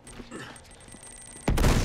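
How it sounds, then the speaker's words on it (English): A shotgun in Uncharted 2: Among Thieves fires one loud blast near the end, after a stretch of quieter game ambience and faint clatter. "let's do some shotgunning"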